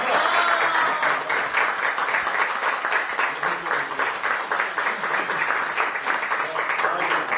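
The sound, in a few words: applause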